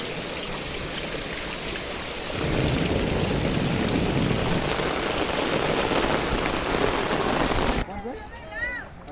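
Village downpour with rain drumming loudly and steadily and a low thunder rumble underneath, then the wash cuts off near the end as a brief voice or whistle-like sound appears.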